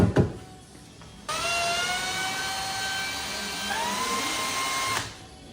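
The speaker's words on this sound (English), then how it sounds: "drill these 4 anchor points on the base" Power drill boring anchor point holes through carpet into a Land Rover Defender 90 seat base, a steady high whine for about four seconds with a slight pitch drop partway, preceded by a few knocks.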